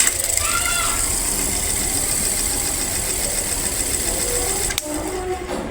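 A repaired electric clip-on fan runs with a steady, close motor hum and a thin high whine. A sharp click breaks in near the end before the running resumes.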